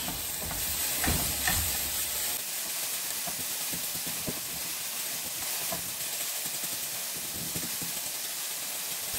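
Leftover rice stirred in a hot sizzling pan, a continuous hiss of frying with soft scraping strokes of the spoon at intervals, close and without speech.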